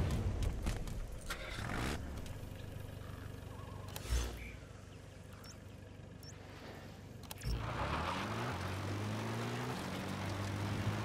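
A helicopter in Metal Gear Solid V flies in for an extraction, its rotor and engine drone steady and fairly loud across the scene, swelling nearer toward the end with a heavier, closer thrum.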